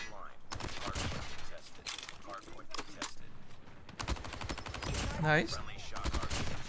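Rapid gunfire from the Dingo gun in a first-person shooter video game, bursts of shots crackling close and loud with short pauses between, while a player talks over the shooting.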